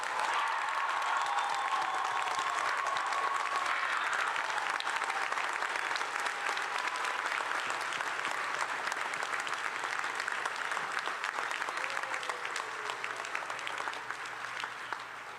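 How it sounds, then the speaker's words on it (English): Sustained applause from a ceremony crowd celebrating a medical school class at a white coat ceremony, dense steady clapping lasting about fifteen seconds before easing slightly at the close. "Please join me in a round of applause for the class of 2025"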